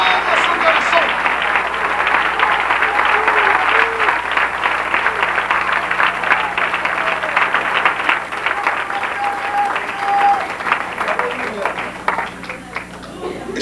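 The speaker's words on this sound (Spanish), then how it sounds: "Denle un aplauso al Rey, pero con todo su corazón" Sustained applause from a large church congregation, steady dense clapping for over ten seconds that thins slightly toward the end.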